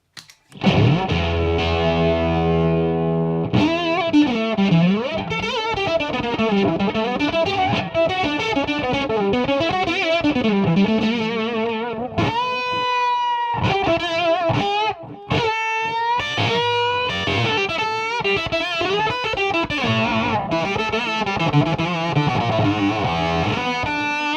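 Heavily fuzzed electric guitar through a Voodoo Lab Proctavia octave fuzz pedal with boost and volume at full, thick and buzzing with a synthy octave-up edge, playing sustained notes, bends and quick runs without pause.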